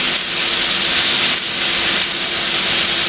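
Mushrooms sautéing in a pan give off a loud, steady sizzling hiss, close up and continuous, with brief dips as the pan is stirred and no talking.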